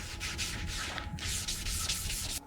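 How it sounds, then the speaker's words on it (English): Hand sanding of body filler on a Pontiac GTO restoration: steady, close back-and-forth rasping strokes in a continuous rhythm, with a brief pause midway. "Hours of sanding."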